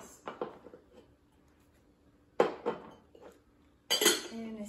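A vintage extra-large silver-plated trivet and a Corningware browning skillet are handled, making a few short metallic clinks and clatters in separate bursts with quiet gaps between, close and moderately loud.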